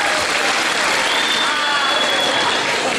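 Audience applause fills a school freshman ball at an economics high school in Vaslui, Romania. Dense, steady clapping runs throughout at a loud, close level with no pauses.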